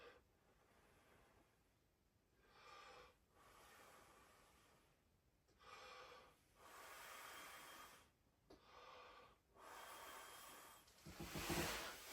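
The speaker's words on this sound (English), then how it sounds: "you just come in here and just you breathing around them" A person breathes slowly and deeply around young indoor seedlings, giving them carbon dioxide: about four long, soft, airy exhalations close to the microphone with quiet pauses between them, the last one stronger and hissier.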